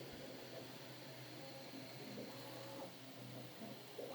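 Bambu A1 3D printer running, heard from a few feet away as a faint steady whir and hum with soft motor tones shifting in pitch.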